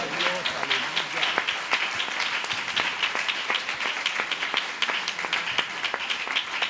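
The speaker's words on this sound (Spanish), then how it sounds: "Dele ese aplauso al Señor, dele la gloria a Dios" Sustained applause from a large church congregation, steady rapid clapping filling the space without a break.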